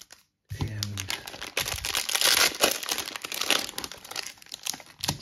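Panini Prizm football cello packs are torn open close up, with loud crinkling and ripping of the plastic wrappers coming in continuous bursts after a brief pause.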